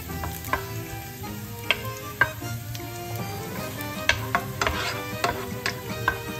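Garlic sautéing in a pan, a soft continuous sizzle punctuated by sharp clinks and taps of a utensil against the pan, close and moderately quiet, with no talking.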